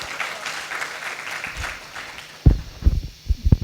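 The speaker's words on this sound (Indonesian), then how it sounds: "Tepuk tangan dulu dong." Church congregation applauding in a ballroom service, a short burst of clapping that rises after a quieter start, with scattered louder claps near the end.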